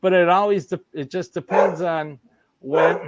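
A man imitates a dog with short voiced barks and a yelp, close and loud, mixed in with his own speech.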